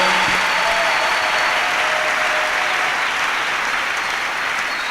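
A church congregation applauds in praise, steady broadband clapping filling the space for several seconds, loud and continuous with a faint tone and murmur underneath.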